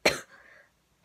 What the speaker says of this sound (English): Mommy just coughing up a lung.